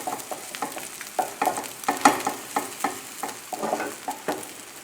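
A prosciutto and Boursin cheese omelet cooks in a pan over a high flame, with steady sizzling and frequent scraping, pushing strokes of a utensil in an irregular rhythm, close and moderately loud, with no voices.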